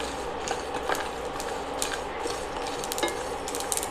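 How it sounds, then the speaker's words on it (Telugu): A tablespoon of sesame seeds frying in a pan for an ivy gourd masala gravy curry, with a steady close sizzle and a spoon stirring and scraping against the pan in irregular clinks. "ఇప్పుడు ఈ మొత్తం మంచి స్మెల్ వచ్చే వరకు వేయించుకోవాలన్నమాట."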